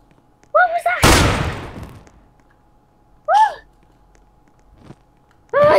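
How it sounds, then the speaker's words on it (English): A single loud gunshot-like blast from a cartoon sound effect, decaying over about a second, set between squeaky high-pitched character voices before and after. "he's trying to shoot me!"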